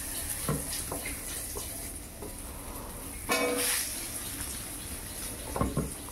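Dishes washed by hand under a running water tap, a steady splashing flow with clinks of utensils and a louder gush midway, no talking.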